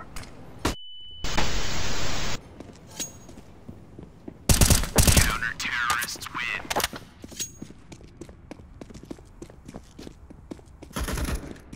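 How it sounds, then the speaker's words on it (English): Flashbang grenade in Counter-Strike: Global Offensive on Overpass going off amid bursts of gunfire, a sharp blast with a high ringing whine, followed by rapid shots and another loud burst. "Flashbang."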